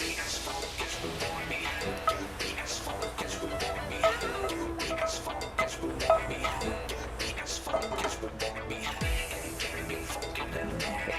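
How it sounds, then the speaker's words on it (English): A risotto of pumpkin and potato puree with mushrooms is stirred in a pot, with scraping and clinking of the utensil against the pot repeating steadily under a busy kitchen background. "So yes, it's important to stir it almost continuously"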